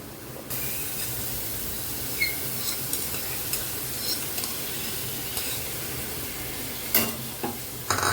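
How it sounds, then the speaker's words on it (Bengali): Yogurt gravy for a paneer and potato curry sautéed over very low heat, a steady hissing sizzle with intermittent spoon scrapes and a few sharper clinks near the end, close and without talk. "কষিয়ে নিচ্ছি, আর সাথে যে আলুটা ভেজে রেখেছি সেই আলু ভাজাটা আমি দিয়ে দিচ্ছি"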